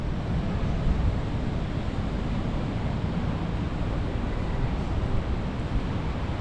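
Steady wash of surf along a beach in Da Nang, Vietnam, a constant close roar of breaking waves mixed with wind buffeting the microphone, no voices.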